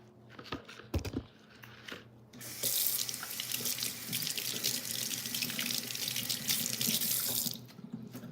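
Running kitchen tap rinsing gloves, a strong steady gush of water into the sink for several seconds, preceded by a few clicks and knocks and ending as the flow stops.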